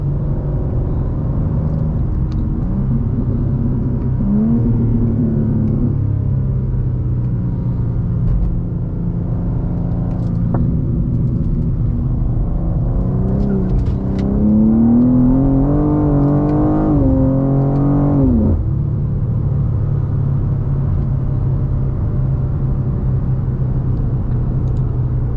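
A G87 BMW M2 drives through Las Vegas with a loud exhaust, a steady close engine rumble heard from the cabin, rising in pitch through rev surges and gear changes and settling back between them.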